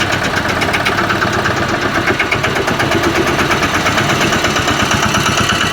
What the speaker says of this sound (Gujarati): આપણે સ્પીડ મળે એવું આ ટ્રેક્ટર છે